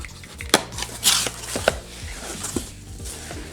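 A rusty kitchen knife slices through packing tape on a subwoofer box, giving several sharp, close cuts and scrapes with rustling cardboard between them and no talking.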